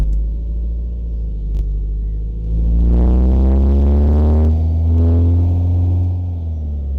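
An NIV's engine starts and settles into a loud, close idle, its heavy low throbbing rumble holding steady and swelling slightly, with no talk over it.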